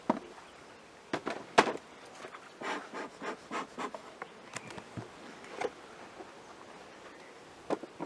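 Honey bees buzz around an opened hive during a beekeeping demonstration in tropical Fiji, with soft, sporadic close passes rising and fading over quiet surroundings and a few faint knocks from handling the hive boxes.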